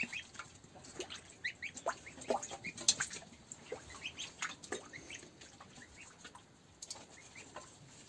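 Week-old goose goslings in water, a busy scatter of soft peeps and small splashes with farm birds calling nearby, moderately close and continuous throughout.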